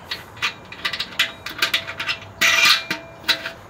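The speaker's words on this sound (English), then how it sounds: "Put your wing nut on, don't cross thread it." A metal wing nut is threaded onto a bolt on a Weber Master-Touch kettle grill, making close, quick, light metallic clicks and scrapes in short bursts.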